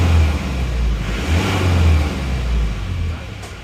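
An Isuzu Panther engine revving in a few repeated throttle blips, a close, loud low rumble that rises and falls in steady pulses with no one talking.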